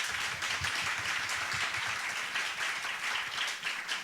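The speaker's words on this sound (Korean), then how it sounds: "우리 박수로 환영할까요?" Church audience gives a missionary a warm welcome with steady, even applause, fairly faint and distant, going on without a break for the whole stretch.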